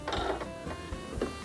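A sewing machine stitching a small fabric hem for home decor, heard as a few quick, close mechanical bursts with short pauses between them.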